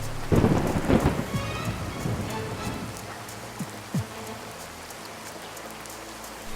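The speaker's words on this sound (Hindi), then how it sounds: "बिजली जोर से कड़कने लगती है और बारिश होने लगती है" A loud thunderclap rumbles at the start, then fades into steady, heavy rain with a couple of faint distant rumbles.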